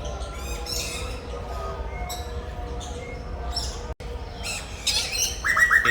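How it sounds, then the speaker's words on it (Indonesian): A red lory squawks and chirps while eating papaya and young corn in a tropical zoo enclosure, sharp harsh calls in bursts over a low background hum, growing louder near the end. "burung nuri merah namanya, sedang makan."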